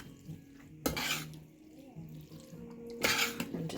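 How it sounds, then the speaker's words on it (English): Noodles and sauce are stirred in a pot, with a spoon scraping and clanking against the metal in two sharp bursts amid soft wet mixing sounds, close up with no voices. "I'm just going to mix everything really, really good, so that way all of the noodles have sauce on them"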